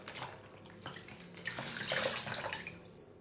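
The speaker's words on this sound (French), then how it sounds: "Ensuite, on rince." Water splashes and runs faintly from a tap as a face mask is rinsed off the skin, a soft continuous trickle with small splashes.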